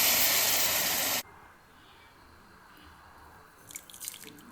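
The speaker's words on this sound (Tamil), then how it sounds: "நம்ம இப்போ கரைச்சி வச்சு புளி தண்ணி ஊற்றிக்கலாம்" Tamarind water hits hot, oil-separated sardine (matthi) fish curry in a pan with a loud burst of hissing sizzle lasting about a second, then cuts off, leaving faint quiet bubbling and a few soft clicks.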